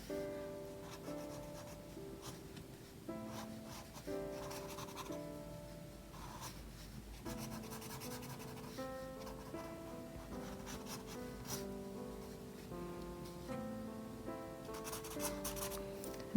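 A pen scratches and rubs across paper while colouring in a drawing, steady and close, under continuous background music that runs throughout.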